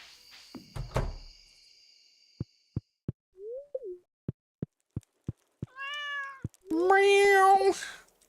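A cat in the Stardew Valley farming game meows in a clear, rising-falling call near the end, following a run of evenly spaced clicks and short game blips.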